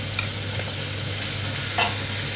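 Minced garlic fries in a hot pan for Thai basil pork, giving a steady, loud sizzle with a few faint scraping stirs and no voices.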